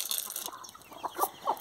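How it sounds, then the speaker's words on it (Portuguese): Chickens feeding on corn cluck softly in a scattered, irregular way, with a few higher-pitched chirps among them, heard at moderate distance with no talk. "Não é muita galinha, não"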